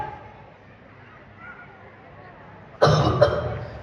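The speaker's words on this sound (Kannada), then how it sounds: "ಕೆಮ್ಮಿ ಎದೆಲ್ಲ ನೋವ್ತಾ ಇದೆ" A single sharp cough bursts out after a few seconds of quiet room noise, followed by a second smaller cough, in a staged comedy skit.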